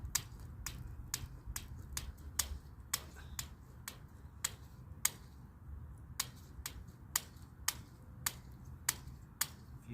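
Hand snips cutting hardware cloth wire mesh, a steady series of crisp, sharp clicks roughly twice per second, close and alone with no talking.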